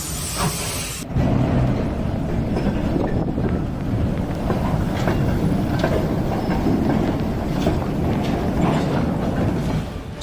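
A train rolls along the tracks in a continuous loud rumble with rattling undertones, close by and steady, mixed with wind buffeting the microphone after an abrupt start.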